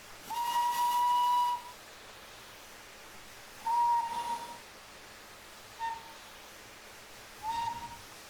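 Steam locomotive whistle from the NER Long Boiler in Train Simulator Classic, one long clear blast followed by three shorter toots at uneven gaps, alone over a faint hiss.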